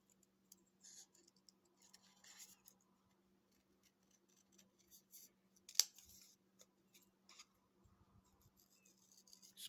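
Scissors snipping paper pieces for a Stampin' Up! card, faint, sparse little cuts and clicks scattered over a quiet background hum, close and soft, with one sharper snip partway through.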